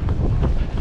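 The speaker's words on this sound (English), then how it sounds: "Oh, it's a bit windy" Steady low wind buffeting a microphone at a Worcester Pitchcroft parkrun, a rough continuous rumble with no other clear sounds.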